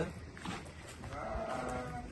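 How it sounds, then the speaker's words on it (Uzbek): Pregnant ewes bleat faintly against a low, steady background rumble, with one drawn-out bleat near the end. "Bular bo'g'iz sovliqlar hammasi."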